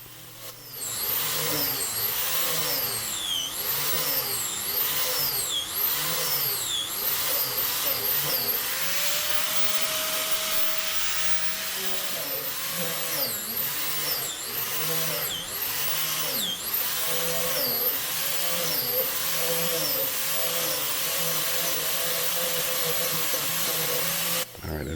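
A wood lathe spins steadily while a tool hollows a Manitoba maple vase, loud continuous whirring with repeated sweeping, scraping cuts that rise and fall throughout.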